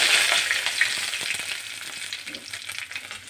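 Curry leaves crackle and sizzle in hot oil over mustard seeds, making a bright, hissing fry that holds close and steady and slowly eases off. No one speaks.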